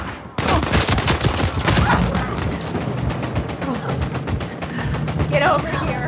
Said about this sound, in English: Should probably just follow the gunfire.